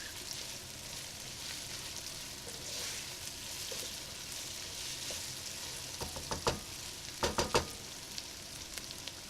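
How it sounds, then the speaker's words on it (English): Prawns, potatoes and peas frying in a pan, a soft continuous sizzle running quietly throughout, then a few sharp scraping knocks of a spoon stirring near the end, with no talking. "As you can see, a few peas have also fallen in. Give them a stir around."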